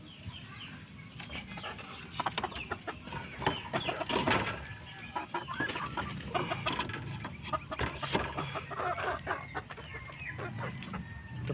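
Four-month-old cockerels cluck steadily and close by, a busy overlapping chatter of short calls with an occasional louder squawk, and no voice heard.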